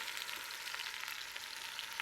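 Onion and braciole meat fry in a pan for a Neapolitan meat sauce, a soft, steady crackling sizzle, close by and faint, with no talking.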